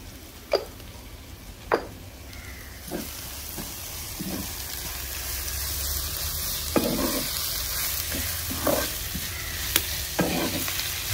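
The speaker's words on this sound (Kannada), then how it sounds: "ಮೀಡಿಯಂ ಫ್ಲೇವರಲ್ಲಿ ಇರುವಾಗ ಚೆನ್ನಾಗಿ ಫ್ರೈ ಆಗ್ತದೆ ನೋಡಿ" Cassava and mutton biryani base frying in a pan over a medium flame, a steady close sizzle broken by about ten sharp scrapes and knocks of a spoon stirring against the pan, with no voices.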